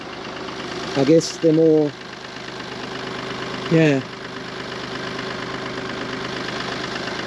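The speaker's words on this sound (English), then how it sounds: "It started. You got diesel quicker into the engine." BMW diesel engine idling after a new injector and seal install, a steady low rumble with a faint knocking texture running throughout, while someone talks briefly over it.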